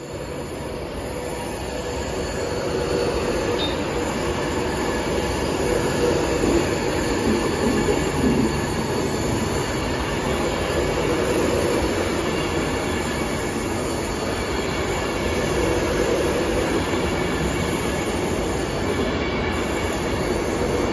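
A Class 390 Pendolino electric train pulls out of Platform 1 at London Euston, a steady loud rumble of wheels and motors with faint squeal, building slightly and sustained throughout with no voices.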